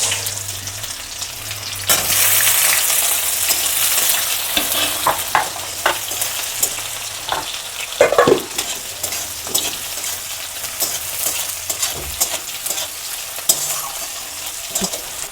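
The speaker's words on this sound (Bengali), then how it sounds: "পেঁয়াজটা আমার ভাজা হয়ে গেছে" Onion fries in a pan for a cabbage and fish-head dish, giving a continuous close sizzle with repeated scraping stirs and spatula knocks throughout.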